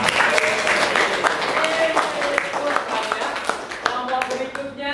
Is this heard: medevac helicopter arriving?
no